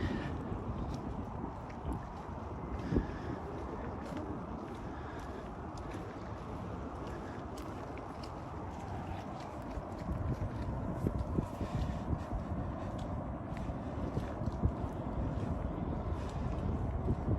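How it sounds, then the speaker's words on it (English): Steady low engine drone of a motorboat speeding across a lake, carried over open water, with wind buffeting the microphone throughout. "There's a boat over here just like freaking zooming across the lake."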